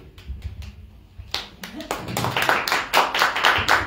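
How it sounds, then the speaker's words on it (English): An audience at a political candidate forum claps as District 30 congressional candidates walk to the stage, starting after a quiet moment and building into a dense, steady patter of many hands at moderate loudness. "Okay, clap."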